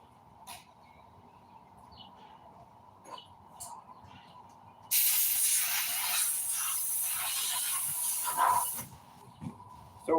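Compressed air blasts a loud, steady hiss through a motorcycle carburetor for about four seconds in the middle, framed by quiet workshop clicks and small taps before and after.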